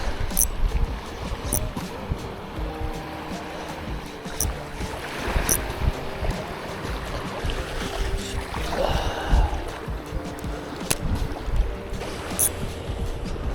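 Boat passing along a waterway near an island fishing spot, a low motor rumble that swells midway and fades, with lapping water and occasional clicks, no one speaking.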